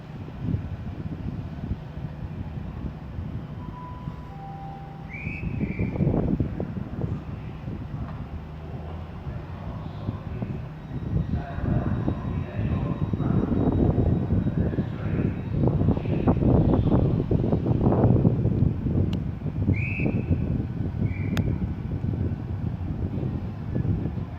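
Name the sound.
Great Western Railway class 800 train departing Slough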